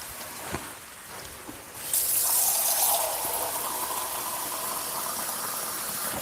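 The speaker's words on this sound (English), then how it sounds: "Add a little bit of water." Water is poured from a cup onto meat cooking in a pan for bistec ranchero, a sudden loud gushing splash and sizzle that settles into a steady bubbling hiss, close by with no talk.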